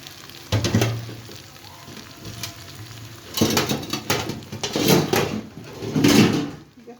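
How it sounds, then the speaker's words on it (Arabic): Onions are turned in frying oil, a low sizzle that comes with several louder bursts of scraping and knocking as the pan is stirred. "قلبي بقى كده لغايه ما ياخد تقليبه حلوه كده"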